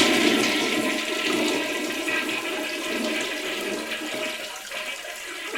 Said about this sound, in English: we've never ended an episode on a toilet flush